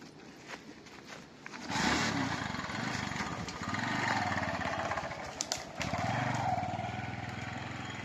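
A tractor engine idles and then runs with a steady mechanical chug in a village setting, rising and holding at a moderate level, with birds and brief voices in the background.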